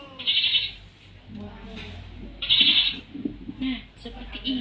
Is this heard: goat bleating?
yes